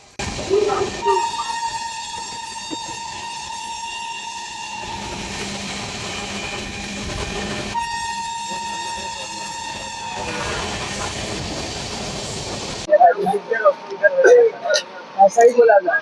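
A passenger train travelling from Howrah to Sahibganj rumbles steadily throughout, with sustained tonal whines over the running noise and sharper clattering bursts toward the end.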